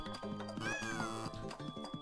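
A voice mimics a cat with a short meow amid dense, busy background sound, followed by choppy mouth noises like hissing and purring, all loud and close.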